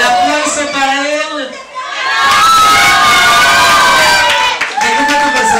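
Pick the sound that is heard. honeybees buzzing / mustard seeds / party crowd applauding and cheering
party crowd applauding and cheering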